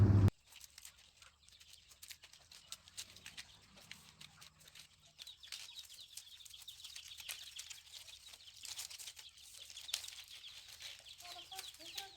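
A hen with chicks clucks softly nearby in a quiet outdoor setting, with scattered short clucks and light rustling throughout.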